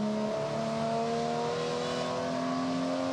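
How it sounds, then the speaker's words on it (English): A Holden HQ race car roars around the Symmons Plains circuit in a 2016 race, its engine droning loud and steady with a slight shift in pitch early on. "He doesn't mind throwing that car around in the background"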